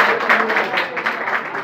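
A crowd at a pigeon-flying tournament prize announcement claps in a loose, continuous patter of applause, fairly close and loud, with a bit of voice mixed in.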